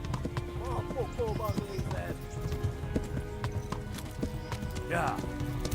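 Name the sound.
horse galloping, from the video game Kingdom Come: Deliverance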